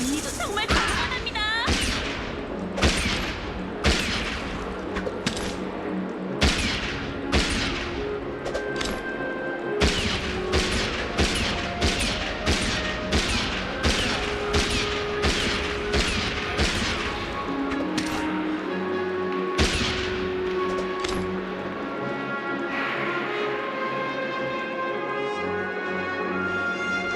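Rapid volleys of gunfire from the video game Honkai Star Rail crack out in sharp, loud bursts, repeating in an uneven rhythm over a continuous game music and effects bed.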